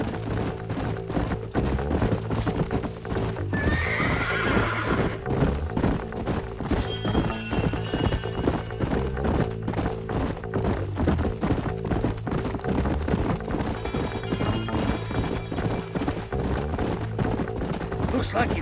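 Horses in the Red Dead Redemption video game clop along steadily, hoofbeats loud and close in an even rhythm, with a whinny early on and a faint second one later.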